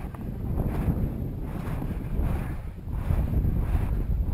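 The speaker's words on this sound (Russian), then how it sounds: "Ветер не дает дышать." Strong winter wind at minus 12 degrees in Canada roars and buffets against the microphone in heavy, surging gusts, loud and low, with no talking.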